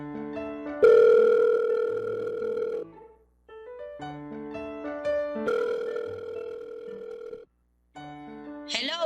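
A telephone dial tone followed by long, steady ringback tones during an outgoing call to someone's mother, separated by short gaps, with a brief chirp at the end; no talk heard over it.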